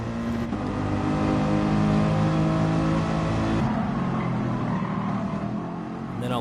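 GT3 race cars roar in a racing video game while battling a green Porsche, engines revving steadily and loud with shifting pitch, a close continuous drone throughout.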